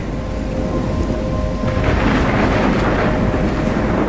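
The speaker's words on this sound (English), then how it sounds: "I'm trapped in a storm?" In the Life Is Strange video game, a thunderstorm with heavy rain pours steadily in a dense, constant hiss, while a deep thunder rumble rolls in and swells partway through.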